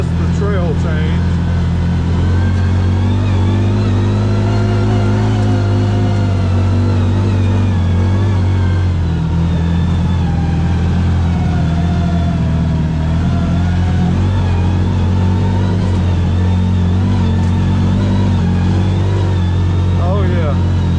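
CFMOTO ZFORCE Sport 4-seater side-by-side engine revving loudly and continuously on a trail in four-wheel drive, droning steadily with rising and falling pitch, with people talking over it.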